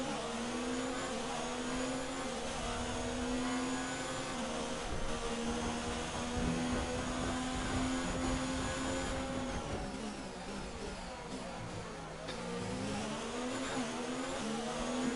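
An Alfa Romeo Formula 1 car races in the video game F1 2019 at the Azerbaijan Grand Prix, its high engine whine holding steady and then dropping and climbing again through gear changes. The loud, close drone runs throughout with no talking.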